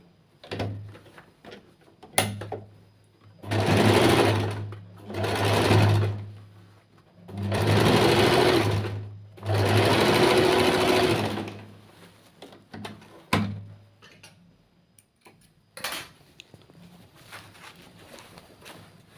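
Sewing machine stitching the neck of a churidar, running in four long bursts of rapid whirring stitches separated by short pauses, with a low mains hum and small handling clicks between.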